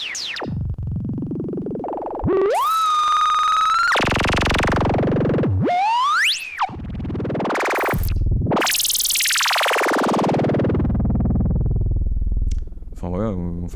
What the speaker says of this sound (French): Si on commence sur un bruit blanc